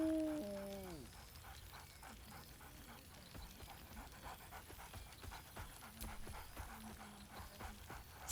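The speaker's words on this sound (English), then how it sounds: "Scratch barks merrily, and something like he whines." Scratch, the dog in the game Baldur's Gate 3, pants and gives a whining, falling whimper at the start, followed by steady panting and soft rhythmic footfalls, fairly quiet and without speech.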